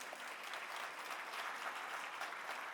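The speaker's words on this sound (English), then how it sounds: "may I get a round of applause for our panelists?" Steady, fairly faint applause from an audience thanking panelists after a civil dialogue discussion, an even wash of many hands clapping throughout with no talking over it.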